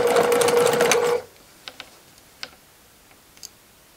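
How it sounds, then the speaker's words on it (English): A sewing machine whirs rapidly for about a second while stitching fabric for a skirt, then stops, followed by a few soft clicks and taps. "So let's head to the sewing machine."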